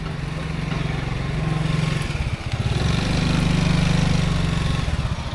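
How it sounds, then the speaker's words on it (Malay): A motorcycle exhaust idles just after a test ride, giving a close, steady, rapid putter with a fast ticking beat that slightly swells and dips. "exhaust dia dah bunyi macam mesin jahit lah"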